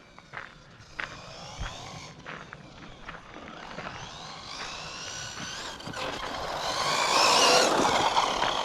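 An RC car with a damaged spur gear tooth runs on a 4S battery with a 16-tooth pinion and 1400 kV motor, giving a rising electric whine with chirping gear noise that builds louder toward the end, fairly close.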